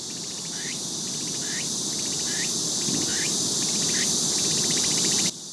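Insect buzzing, likely a cicada, fills the clip as a steady, loud drone with repeating pulsed phrases roughly every second, unbroken by talk and cutting off abruptly near the end.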